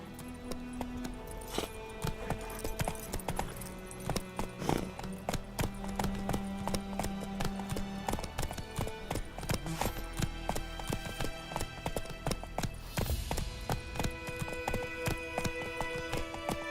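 Horse hooves clip-clop steadily at a brisk riding pace in The Witcher 3, a continuous rhythmic clatter with a whinny and a brief call to the horse over the game's ambient background.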